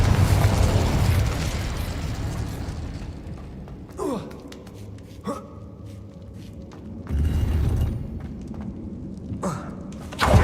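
A fire spell going off in the Hogwarts Legacy video game, with several sharp bursts and booming pops spaced across the stretch amid whooshing effects, loud and close, with breathy character sighs and gasps between them.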